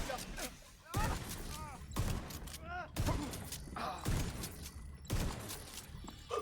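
An exotic shotgun fires in The Division 2, with a few heavy booming blasts about a second apart standing out over busy game noise and a talking voice.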